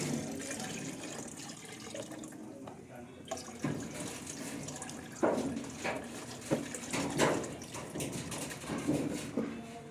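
Rinse water from washing wild ube is poured out at a kitchen sink, a splashing, gurgling flow with several louder surges in the second half, while someone talks over it.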